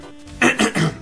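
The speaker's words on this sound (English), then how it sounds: "I'm so sorry for like all this coughing and hacking and sniffling I'm doing." A few short throat clears and coughs from a person with allergies, three close bursts in about a second, fairly loud and near.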